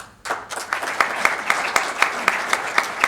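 At an awards ceremony for the Cooperative Union of Slovenia at the AGRA 2015 fair, an audience breaks into steady applause, with sharper individual claps standing out in the crowd over about three seconds.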